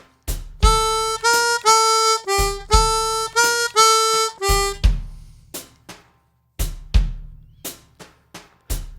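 A bright chromatic harmonica plays a slow blues phrase in E of lilting swung shuffle eighth notes over a steady drum beat, then the drums continue alone.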